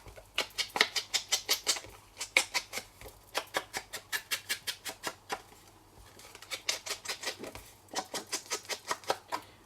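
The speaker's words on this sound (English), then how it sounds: "I'm just going to sponge round everything." A sponge dabs ink around the edges of a card and an oval in quick rhythmic bursts, each run of close, crisp taps separated by short pauses.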